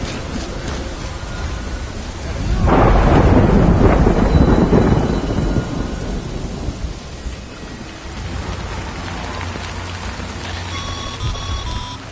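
Thunder rumbles in the video game Death Stranding over steady rain, a loud close roll swelling early then fading back into continuous downpour, with faint electronic beeps near the end.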